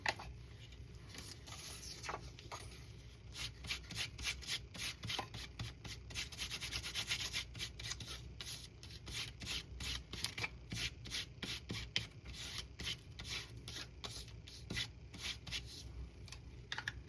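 Antique linen distress ink being rubbed onto a paper pocket, a steady scratchy rubbing with quick repeated strokes, close and fairly quiet, with no talking.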